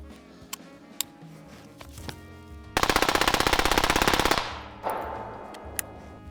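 Suppressed 5.56x45mm rifle from a 16-inch barrel fitted with a BOE Suppression MOD1S can: a loud, fast string of about 25 closely spaced shots lasting under two seconds, with scattered single outdoor noises before and after.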